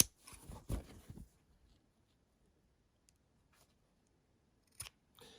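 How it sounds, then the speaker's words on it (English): Scissors snipping excess fabric at seam edges, a short cluster of close crisp cuts at the start, then near silence with a couple of faint later snips. "you're going to trim off the excess that you've got on the edges here"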